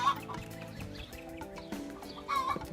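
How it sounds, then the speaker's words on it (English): A broody mother hen sitting on her eggs in a farm coop clucks and growls in low, continuous grumbles, with a couple of sharper squawks mixed in, close and moderately quiet. "Mama Hen thinks I'm going to bother her and the eggs that she's got in there"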